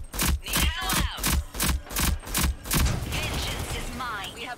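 Video game gunfire strikes a shield in a rapid rhythmic string of about eight sharp, loud bursts, then trails into softer mechanical scraping and metallic whirs.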